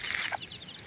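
Chicks, brought out of their coop with a mother hen for feeding, make a short run of high, thin peeps up close.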